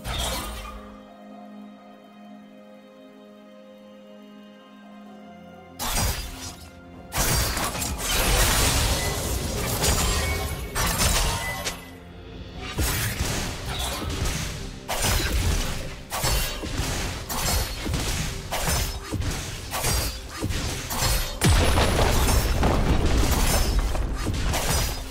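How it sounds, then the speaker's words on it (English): Turret destruction in League of Legends: a quiet mechanical hum gives way to a sudden crash, then repeated loud smashing, crumbling and booming bursts that continue to the end. "Red Team's turret has been destroyed."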